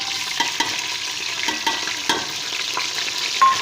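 Onions frying in hot cooking oil for a lentil dal, a dense continuous sizzle with soft irregular stirring scrapes, close and fairly loud, no talking.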